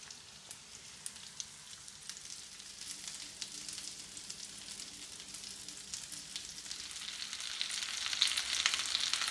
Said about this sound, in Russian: выкладываем наши оладушки на сковородку и обжариваем с двух сторон